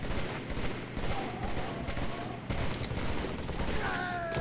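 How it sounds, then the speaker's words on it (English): Steady, dense assault rifle fire in a Halo multiplayer game continues without a break, a loud rattling burst of rapid shots, with faint whistling effects near the end. "Why do I hear the assault rifle going off?"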